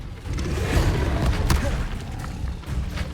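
A Confringo spell blast in Hogwarts Legacy lands as a burst of thuds and booms, with short whooshing crackles spreading through about three seconds of dense, loud game combat.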